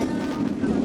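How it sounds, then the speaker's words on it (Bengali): Train travelling along a rural railway line near Dinajpur, heard from onboard as a steady, continuous rumble with a low hum and wind noise throughout. "রেলপথ দিয়ে যাচ্ছি।"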